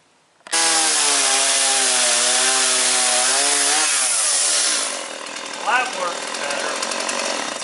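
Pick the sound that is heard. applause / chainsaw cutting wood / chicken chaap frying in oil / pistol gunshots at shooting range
chainsaw cutting wood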